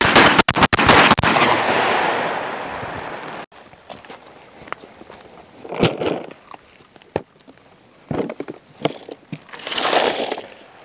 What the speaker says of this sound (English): So we're gonna shoot 400 rounds of double lot buckshot and slugs combined.